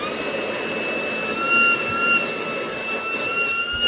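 A Schumacher battery jump box's built-in air compressor inflating a car tire, a steady close droning whine with a constant high tone running throughout, no talk over it.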